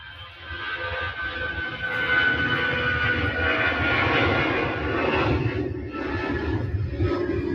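Airbus A319 airliner at Manchester Airport, its engines roaring loudly and steadily overhead as it passes close by, a broad sustained rumble with a faint whine, no voices.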